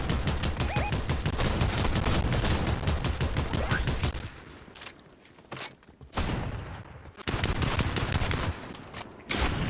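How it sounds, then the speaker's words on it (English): Dense, rapid gunfire in the Fortnite video game, coming from behind the player: loud bursts of overlapping shots crowd the first four seconds, drop into a quieter lull, then resume heavily to the end. "Someone behind me shooting."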